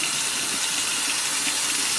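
Cold tap water runs steadily into a sink while shrimp are cleaned, a continuous close splashing hiss with no talking.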